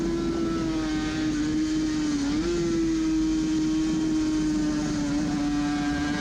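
Suzuki RG500 two-stroke racing motorcycle heard onboard near Glen Helen on a road circuit, a loud, steady, buzzing engine note held at high revs throughout with a slight dip and rise midway, close and continuous with no talk.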